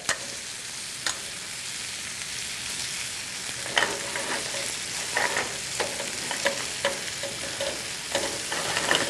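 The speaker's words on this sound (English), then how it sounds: "we're going to spoon off the fritter into the oil, and you're going to fry nice and crispy" Spinach, bacon and ricotta fritters fry in hot oil with a steady bright sizzle and occasional crackles and pops, close and continuous for several seconds.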